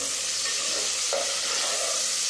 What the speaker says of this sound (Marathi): कांदा आपल्याला मस्त तेलावरती परतून घ्यायचा आहे.